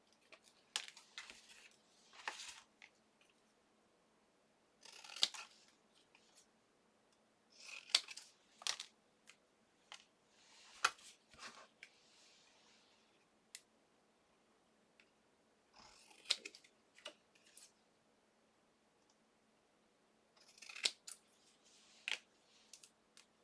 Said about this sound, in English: Just trimming the excess off because I don't need it and I don't want to run that through my die